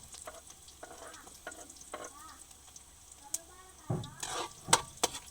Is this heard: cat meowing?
no